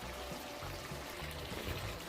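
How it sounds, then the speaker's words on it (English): Water added to pepper shrimp cooking in a pan gives a steady pouring, sizzling wash that runs continuously and fairly loud for about two seconds, with no talking. "Now I'm gonna add a little tip of water, cook down and lock in all of that flavor into that pepper shrimp."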